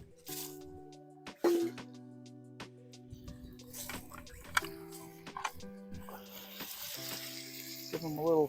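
Potato pieces drop into plenty-hot grease in a cast iron pan over a campfire, setting off a steady close sizzle and crackle with scattered clinks and scrapes.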